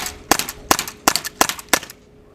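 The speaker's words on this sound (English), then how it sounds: "we're gonna have a look at multiple shots in semi-auto on the PPQ with a .43 caliber Pepperballs" Five rapid semi-automatic shots from a PPQ pistol firing .43 caliber pepperballs, each a sharp, close crack about a third of a second apart, with no talking.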